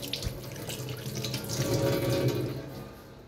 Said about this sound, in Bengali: এখানে বাসন আছে, এগুলো মাজতে হবে